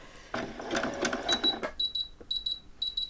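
A domestic sewing machine runs a wide zigzag stitch around the raw edge of T-shirt fabric, a fast rattling burst of needle strokes followed by short high whirring runs with brief pauses between them.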